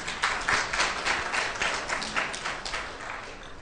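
An audience at a lecture on psychedelics and the unconscious breaks into loud, dense applause. The clapping starts strong and slowly eases off toward the end.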